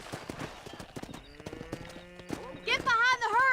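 A horse in the video game Red Dead Redemption clip-clops with rapid hoofbeats, then gives a loud, shrill whinny at the end, with game dialogue spoken over it.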